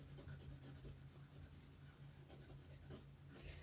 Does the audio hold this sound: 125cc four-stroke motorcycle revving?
no